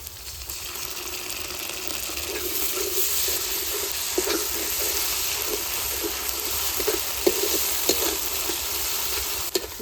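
Cumin and coriander paste frying in a pan for chicken khichuri, a steady close sizzle with scattered stirring clicks and scrapes throughout, no voices.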